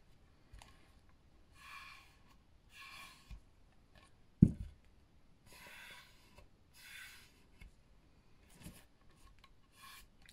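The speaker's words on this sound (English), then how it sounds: "you want to rub that down at the edge" A wooden keepsake box edge is hand sanded with 180 grit sandpaper on a hard block, producing several short, separate rasping strokes, close and fairly soft, with a sharp knock partway through.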